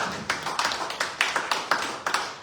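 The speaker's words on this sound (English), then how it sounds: "Yes, please, let's give a round of applause." Sparse, spaced claps from a small audience at a legislative internship reflection session, around seven or eight separate sharp hits in an uneven rhythm, moderately close and with no talking.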